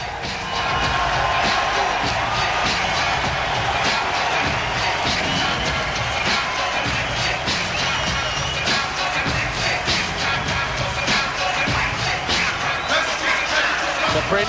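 A boxing crowd packed into the Royal Albert Hall cheers and roars continuously, a dense, loud wall of voices with whoops and shouts rising throughout.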